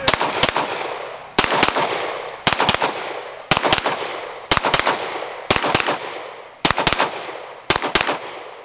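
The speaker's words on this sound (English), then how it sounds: "I am shooting the FN High Power" An FN High Power pistol fires at a steel target, eight loud, sharp shots spaced about a second apart, each followed by a short ringing decay, with no talk.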